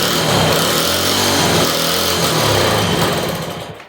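A 1963 Honda Sport 50 C110 motorcycle engine fires up at full throttle with choke on, a loud, buzzy high-revving single-cylinder drone held steady before tapering off at the end.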